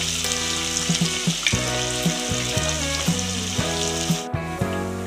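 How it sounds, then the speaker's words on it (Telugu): Ginger and onion paste fries in a pan for a prawn and leafy greens curry, a steady sizzle broken by repeated rhythmic scrapes of stirring against the pan. "ఇప్పుడు అల్లం చిల్లిపాయ పేస్ట్ వేసుకున్నాం వేసి ఇట్లా కలిపిస్తాం ఇట్లా బాగా ఏగలిద్దాం"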